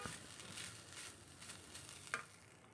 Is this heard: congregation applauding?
no